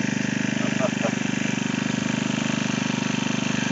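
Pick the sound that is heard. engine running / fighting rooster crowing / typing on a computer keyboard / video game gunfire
engine running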